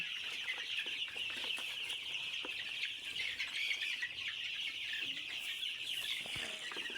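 A flock of month-old Egyptian Fayoumi chickens on a small farm cluck and peep continuously. The soft, busy chatter carries high chirps and occasional louder calls at moderate distance.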